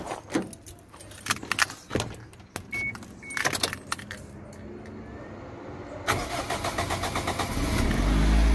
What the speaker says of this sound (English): I'm gonna start the car up and let you guys hear how it sounds.